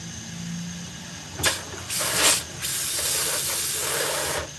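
Steaks laid into a hot pan, stir fry style, set off a loud, close hiss that bursts up, briefly dips, then settles into a steady bright sizzle that carries on to the end.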